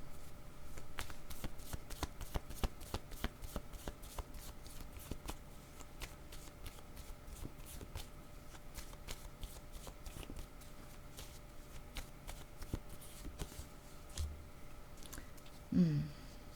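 Tarot cards shuffled in a long, quiet, steady run of crisp flicking taps, close but soft, with a brief low rustle near the end and no talking.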